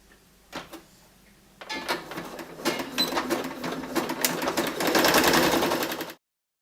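A sewing machine runs a zigzag stitch over the short edge of a fabric piece, starting with a few isolated clicks before settling into a loud, steady, rapid mechanical chatter that runs for several seconds and then stops abruptly.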